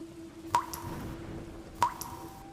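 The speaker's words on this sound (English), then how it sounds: "And behind me, the hiss of a drip." Two hissing drips land in a dim hospital setting, each a sharp wet plop with a brief ringing tail, spaced about a second apart over a faint steady hum.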